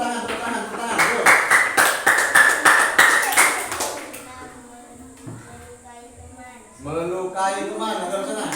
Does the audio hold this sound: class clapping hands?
yes